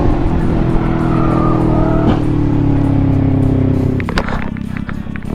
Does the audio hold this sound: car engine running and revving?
yes